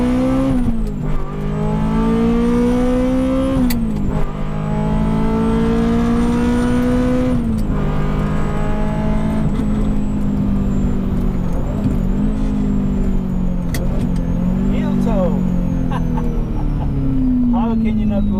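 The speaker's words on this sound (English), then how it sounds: "Driving a Ferrari at Monza, it's a once in a lifetime experience." A Ferrari 355 with a manual gearbox lapping the Monza circuit, its engine note loud and close from inside the car, climbing through the revs and dropping at several gear changes, with talk heard over it.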